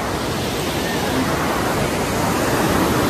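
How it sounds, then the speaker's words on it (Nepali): The Bheri river rushing at Khalanga in Jajarkot, a loud, dense and unbroken roar of flowing water close by for a few seconds. "ओहो, जाजरकोटको भेरी नदी हो, खोला हेर्नु कस्तो राम्रो दृश्य रहेछ यहाँ त"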